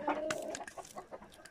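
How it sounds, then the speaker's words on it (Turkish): Sick chickens that seem to have caught a chill cluck and cough softly in a short, close series of brief calls on a farm in Antalya. "tavuklar hasta olmuş, üşümüşler"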